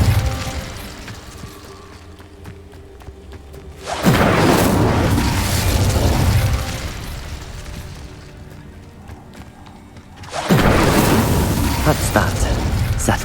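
In Hogwarts Legacy, Incendio fire spells are cast twice, each a loud roaring whoosh and burst that swells and slowly fades. Ambient game sound fills the quieter stretches between them.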